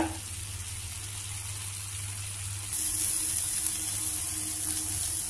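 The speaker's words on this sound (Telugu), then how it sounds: "కాకరకాయ ముక్కలు బాగా వేగాయి, మంచిగాను ఫ్రై అవుతున్నాయి" Bitter gourd pieces, half-boiled first, fry in a pan with a steady, even sizzle and hiss throughout, growing slightly louder partway through, with no talking.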